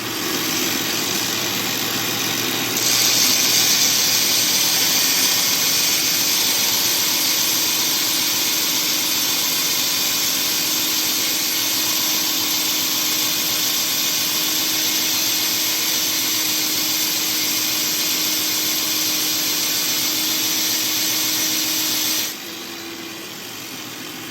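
Power grinder working metal tabs on a Weber 22-inch charcoal kettle during a leg upgrade, a loud continuous high whine that holds steady for about twenty seconds before dropping off near the end.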